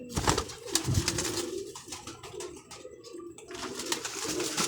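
Highflyer pigeons coo steadily up close, soft throaty calls overlapping in a continuous murmur with occasional wing rustles, no voices.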